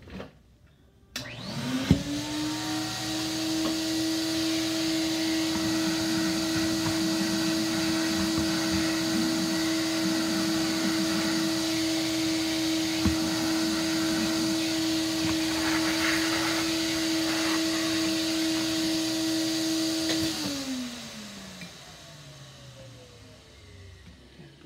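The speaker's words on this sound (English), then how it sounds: "I think I'm gonna vacuum this while I have it open." A Dyson SV12 vacuum cleaner motor starts with a rising whine, runs loud and steady for about twenty seconds, then winds down as it switches off.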